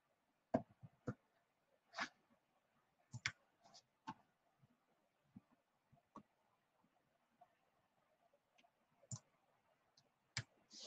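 Mouse clicks on a computer while working in the Genially presentation platform: a dozen or so sharp, isolated clicks at irregular intervals, close and clear against near silence.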